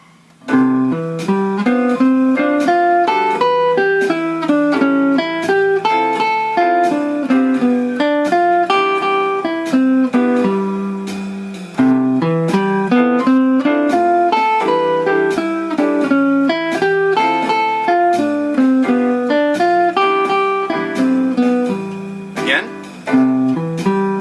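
Voice-led arpeggio inversions played over common chord changes, a continuous flow of clear, evenly paced plucked notes moving through shifting harmonies, loud and close for about twenty-four seconds.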